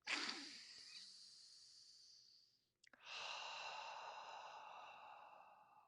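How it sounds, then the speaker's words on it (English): One long, close exhale trails off into a brief pause, then steady, soft breathing continues in a quiet room. "long exhale, breathe, breathe"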